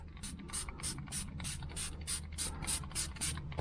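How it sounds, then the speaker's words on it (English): A trigger spray bottle spritzes water repeatedly onto a Corolla screen protector, about ten quick close hissing bursts in a steady rhythm, soft over a faint low hum with no voices. "spray it really good so that way you'll be able to slide it on there"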